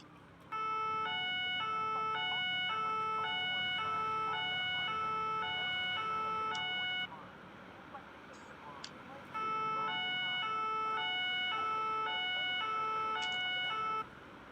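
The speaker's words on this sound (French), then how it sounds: "c'est des véhicules de police américaine avec les sirènes" American police vehicle sirens wail in a Police Simulator video game, two long bursts of cycling electronic tones separated by a brief quieter gap, loud and close.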